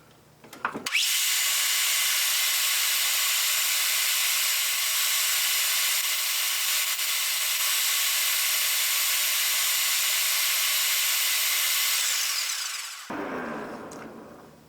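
Lathe boring out the bore of a Crosley water pump part, a loud, steady high-pitched machining whine lasting about twelve seconds with a sharp start and stop.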